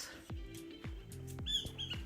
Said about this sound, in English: Early morning, the laughing thrushes are coming to greet us.